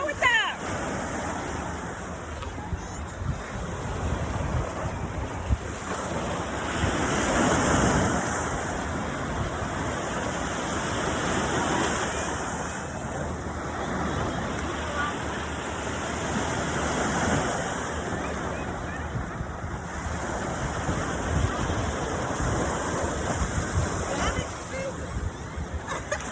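Ocean surf rolling onto the beach at Panama City Beach, a steady broad wash of breaking waves with wind noise across the microphone, continuous and fairly close, with faint voices now and then.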